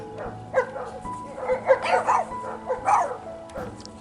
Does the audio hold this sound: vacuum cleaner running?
no